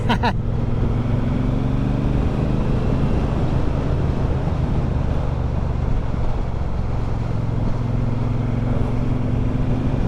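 A motorcycle is ridden on a chilly day, with a steady close engine drone and low rumble under heavy wind buffeting that stays constant throughout.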